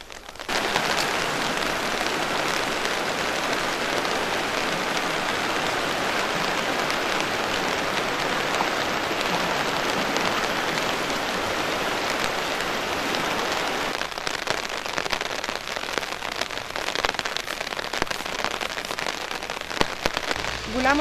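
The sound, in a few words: heavy rain falling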